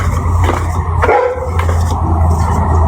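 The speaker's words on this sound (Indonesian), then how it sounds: "Guguk sebelah tuh." Several short dog barks sound from close by against a constant low droning background, spaced irregularly through the moment.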